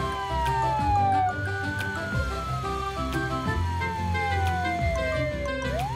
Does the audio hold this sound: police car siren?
yes